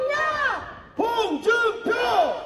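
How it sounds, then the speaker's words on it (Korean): A crowd at an outdoor presidential campaign rally in Inje County, South Korea, chants in loud rhythmic bursts, three roaring shouts in a row. "지금과 같은 함성으로 잠시 후에 우리 홍준표 서민 대통령 후보께서 입장하시면 큰 함성과 박수로 맞이해"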